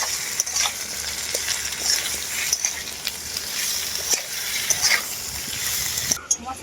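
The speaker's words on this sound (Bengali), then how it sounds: "সজনে ডাটা আর আলুটাকে আমি খুব ভালো করে কষিয়ে নেবো" Drumstick stems and potatoes with dry chilli, ginger and turmeric sauté in a pan, giving a steady oily sizzle broken by scraping spoon strokes; a voice talks over it.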